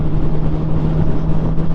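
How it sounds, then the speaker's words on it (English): Steady engine and exhaust drone from a 2011 Honda CBR600RR motorcycle cruising in high gear on a wet road, a constant low hum with a strong steady tone and broadband rush of wind and road spray, continuous and close. "I can still hear the exhaust."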